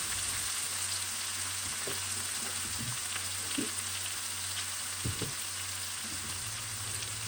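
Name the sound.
onions and peppers frying in a pan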